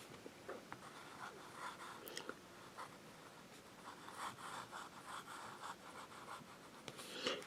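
A Sheaffer Prelude fountain pen writes on paper, giving a faint, close, soft scratching of the nib with brief strokes and pauses, and light breathing nearby.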